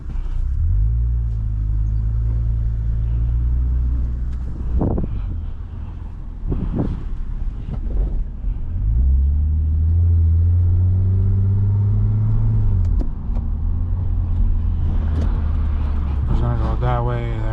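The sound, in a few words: crashed Lexus IS250 driving around the block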